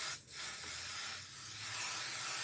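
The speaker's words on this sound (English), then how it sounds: "I'm always nervous about spraying this on fabric" A spray can hisses onto sweatshirt fabric in one short burst, then soft steady hiss and room noise follow.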